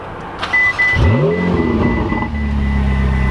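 A 750 hp Ferrari 488 fires up and accelerates nearby, a loud rising engine roar that falls back to a steady low rumble, with no talking over it.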